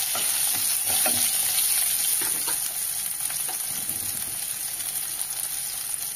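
Onions and garlic sauté in hot oil for a brinjal and drumstick kuzhambu, a loud continuous sizzle with light stirring scrapes early on, steady throughout with no voices.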